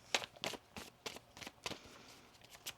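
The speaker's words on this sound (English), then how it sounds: "One more shuffle." A deck of tarot cards is shuffled up close during a reading, about eight crisp riffling bursts in an uneven rhythm with short pauses between them and no voices.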